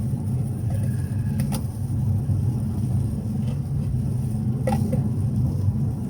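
A 2018 Infiniti Q50 Red Sport 400 running on the road, heard from inside as a steady low engine rumble and drone with some tire and road noise, constant and fairly loud throughout.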